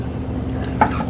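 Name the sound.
stirring steak stew in a pot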